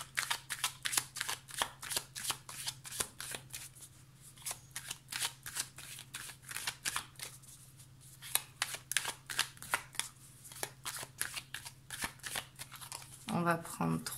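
Oracle cards from a mirror-themed deck are shuffled in rapid, crisp riffling bursts, close and fairly loud, continuing steadily throughout, with a steady low hum underneath.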